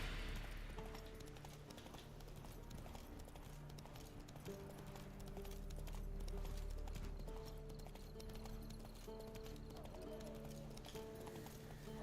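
Horse hooves clip-clop steadily in The Witcher 3 (Next Gen), a continuous rhythmic trot layered over game music and ambience, with occasional voice sounds.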